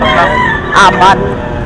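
Roosters crow in short, nearby bursts of two quick calls, ringing out over a busy background of other fowl and a voice.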